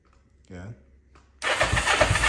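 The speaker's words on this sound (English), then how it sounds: "So we'll fire it up real quick and see how it sounds now that we tighten it down" A custom Kraken build with full suspension, jack shaft, custom swing arm and paddle tire fires up: a short voice, a pause, then an abrupt, loud, rough engine roar that runs on to the end.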